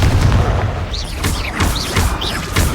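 Blasting spell explosions from a fantasy wizarding action game, a series of loud booming impacts about every half second with whooshing magical flourishes between them, close and forceful.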